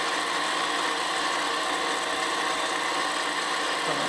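A lathe drills into a spinning workpiece for a miniature steam engine, giving a steady, loud mechanical whir with a constant motor drone and no breaks, close by.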